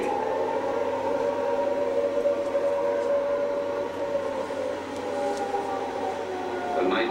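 Air raid siren wails steadily over wartime London, a sustained droning tone with low rumble beneath, fairly distant and continuous throughout.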